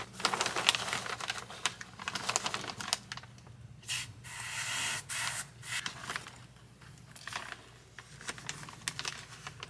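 Spray foam insulation sprays with a steady hiss in repeated bursts with short pauses between, close by, mixed with scraping and rubbing noises, in a crawl space.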